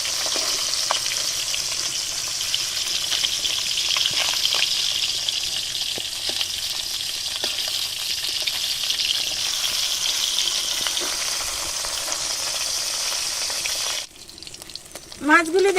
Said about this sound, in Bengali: মাছটা এবার উল্টাই দিচ্ছি